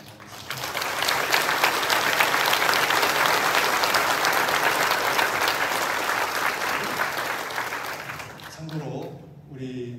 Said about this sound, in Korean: 감사의 박수를 보내주시면 감사하겠습니다.